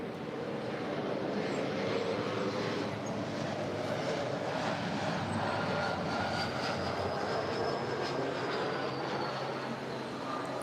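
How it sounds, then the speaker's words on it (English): A United Express Embraer E175 LR regional jet, six years old, comes in to land at a busy airport, its steady broad engine roar continuous and fairly distant, with a faint rising whine over the top. "It's a 6-year-old Embraer E175 LR."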